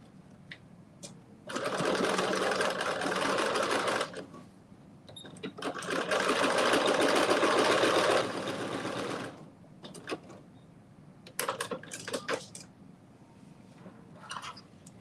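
Sewing machine stitching a fanny pack strap, two steady whirring runs of several seconds each separated by pauses, with light clicks and handling noises afterward.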